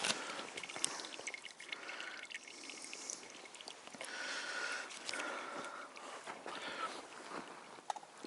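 Outdoors in the woods, water drips and trickles through a camp coffee maker. The sound is quiet and irregular, with scattered small drops and soft pouring over a faint background hiss.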